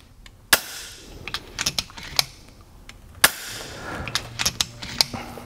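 FX Impact air rifle, fed by a high-pressure line, fires a series of sharp, close shots at irregular intervals while its FPS is being adjusted, with fainter mechanical clicks in between.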